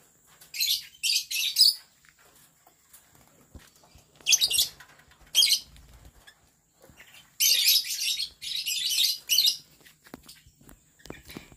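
Caged lovebirds give bursts of high, rapid chirping in several separated clusters, with quiet gaps between and no voices.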